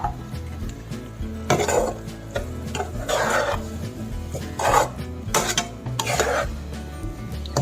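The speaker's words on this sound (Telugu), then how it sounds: "ఇది దగ్గర అయ్యేదాకా కలుపుతూ ఉండాలి." Jaggery and fresh coconut filling being stirred in a pan, with repeated scraping and rubbing strokes of a spoon against metal about every second or so, close and fairly loud, no speech.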